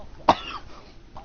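A single sharp cough from a person, close and loud, standing alone against a faint room background and followed by quiet.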